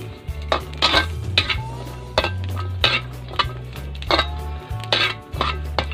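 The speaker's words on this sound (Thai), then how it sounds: "คั่วพริกจ้า" Chilies dry-roasting in a pan over an open wood fire in a backyard Thai kitchen, with repeated loud metallic scrapes and clanks of a utensil against the pan in an uneven rhythm, close by.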